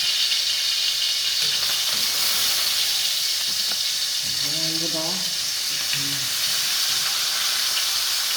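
Dried fish (daing) frying in a small amount of oil, a loud steady sizzle and hiss throughout, with a voice speaking briefly over it.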